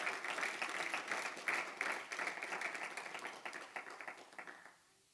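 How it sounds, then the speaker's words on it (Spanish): A church congregation applauds a couple, a dense spread of clapping at moderate, fairly steady volume that fades out near the end. "un aplauso para esta pareja"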